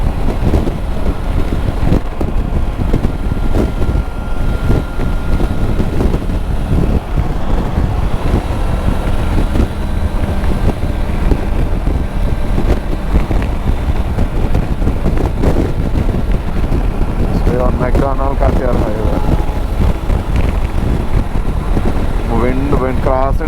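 Strong wind buffets the microphone continuously while riding a motorcycle on a long-distance highway route from Toronto to Moncton, with a steady low roar throughout and engine rumble beneath.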